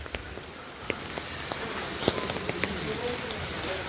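Rain falls steadily during a community cleanup drive at GHSS Ala school in Kerala, a soft continuous patter on surfaces, with scattered sharper drops and faint distant voices underneath.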